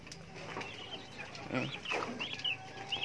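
Geese on a small farm call out in a few short honking cries over background farmyard noise, moderately close.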